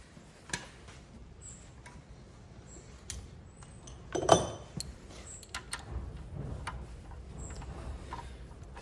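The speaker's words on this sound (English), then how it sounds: "A nut on each of the studs is next, and then we'll grab a socket just to tighten those by hand." Socket and steel nuts clinking faintly as engine stud nuts are run down by hand in a workshop, with scattered small ticks and one brighter metallic clink midway.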